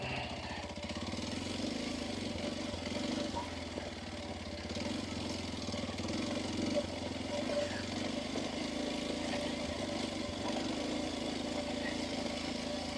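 A Kawasaki KLX230S dirt bike engine drones steadily at moderate distance on a rocky trail, a low continuous rumble with slight rises and dips throughout.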